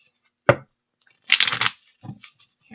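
Tarot cards shuffled by hand: a sharp snap, then a dense riffling burst lasting under half a second, followed by a softer, brief rustle, all close and without talk.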